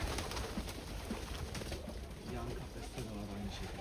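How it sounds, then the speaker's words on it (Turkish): Many pigeons coo low and throaty nearby amid a busy, rustling outdoor background, with a voice talking faintly, in a spot crowded with birds. "Abi her yer kuş."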